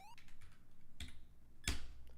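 Clicks from a 60% computer keyboard heard during a Super Mario Bros. speedrun session: a few sharp, separate keystrokes spaced apart over a steady low background, fairly quiet and close with no talking.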